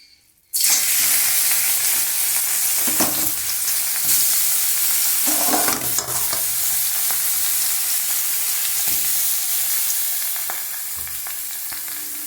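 Grated cauliflower with ginger paste frying in a wok, a loud sizzle that bursts in suddenly and carries on with scraping stirs, easing off slightly near the end.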